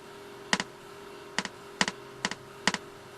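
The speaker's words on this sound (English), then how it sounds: "if that sound was loud enough and it travelled away and it bounced back off a building or a mountain or something" Sharp percussive count-in clicks, five short double-struck hits spaced about a second apart, each followed closely by a single quick echo, heard alone over a steady low hum.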